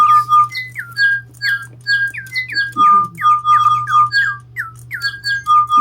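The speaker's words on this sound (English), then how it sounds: "They're all chirping away." Small pet birds squawking and chirping close by, a busy stream of sharp repeated squeaky calls overlapping one another over a steady low hum.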